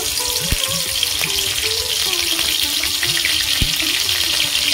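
Steady, loud sizzling of chopped chilli frying in oil and ghee in a wok, with a couple of sharp clinks from a utensil against the pan; no voices.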